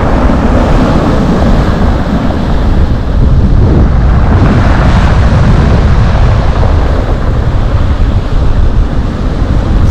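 Loud, continuous roar of sea waves crashing and washing onto a fishing beach at Lazarevskoye on a warm but very windy January day, with heavy wind buffeting the microphone throughout.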